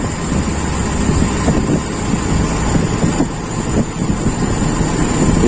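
A Toyota Kijang carburetor engine runs loud and close with a continuous rough mechanical roar as its RPM is raised from idle, alone without talk.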